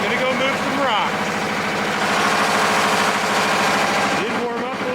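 A tractor engine turns over and settles into a steady idle, a loud close mechanical rumble with rhythmic vibration, with a brief higher mechanical sound near the start and another near the end.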